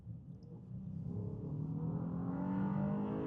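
2025 Honda Ridgeline V6 pickup accelerating from a roll of about 20 mph, a low engine rumble that climbs steadily in pitch and loudness, heard from inside the cab with no talking.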